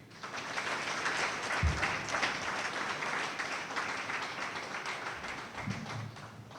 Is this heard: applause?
yes